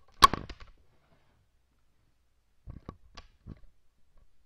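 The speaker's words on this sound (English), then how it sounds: "I'm sorry about that noise. The mic just fell." A microphone topples over, making a sharp close thud and clatter at the start, then a few fainter knocks and bumps follow after a pause.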